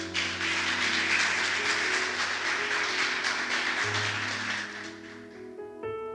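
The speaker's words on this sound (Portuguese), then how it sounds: "Você pode aplaudir o Senhor?" Church congregation applauding together, a steady broad wash of clapping over a held organ or keyboard chord, fading out toward the end as the music continues.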